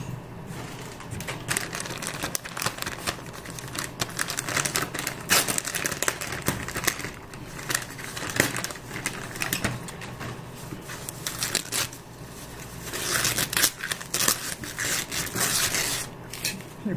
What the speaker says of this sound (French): Plus de papier de protection qu'autre chose.